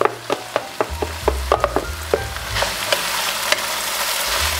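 Cassava leaves fry in plenty of oil while being stirred, with a steady loud sizzle and sharp clacks of a utensil against the pan at an irregular rhythm.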